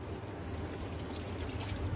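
Water poured from a bottle into a pot holding about four kilograms of meat for Peshawari namkeen gosht, a faint continuous gurgling pour that runs steadily.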